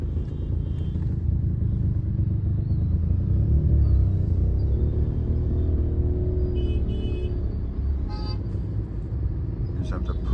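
Busy Bali road traffic: a steady low rumble of car and truck engines, fairly close and continuous, with brief faint horn toots, while people talk over it.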